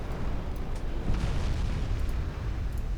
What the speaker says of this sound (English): Flash fire on battlecruiser New Zealand.